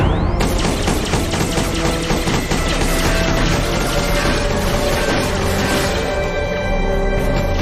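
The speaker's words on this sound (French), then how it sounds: "Ouvrez le feu, pleine puissance" A sustained, dense barrage of sci-fi weapon fire from the Alpha Briggs at full power, loud and continuous with rapid crackling bursts layered over a steady electronic hum.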